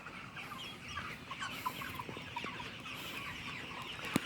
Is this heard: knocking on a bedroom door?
no